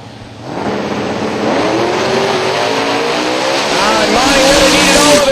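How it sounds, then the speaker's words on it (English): A drag racing car at Silver Dollar Raceway after its burnout, its engine roaring loudly and close, revving up with rising pitch and a harsh, dense exhaust note under a track announcer's voice. "There's something not right after the burnout for Monty Miko."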